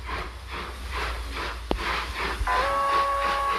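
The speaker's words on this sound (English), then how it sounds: "Yes, a train at last." A steam train chuffs in a steady, rhythmic pulse of hissing puffs, with a short clank and then a high whistle tone sounding near the end.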